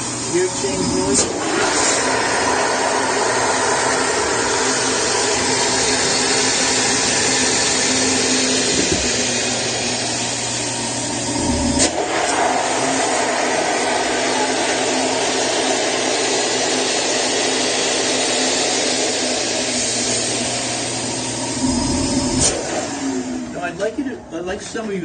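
HoverJack air supply inflating a hospital patient transfer mattress, a loud steady blowing roar with a rising pitch as it fills, running throughout while people talk over it.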